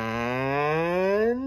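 A human voice imitates a cow, giving one long, drawn-out moo that rises slightly in pitch and is held steadily before stopping, close and clear against a quiet background.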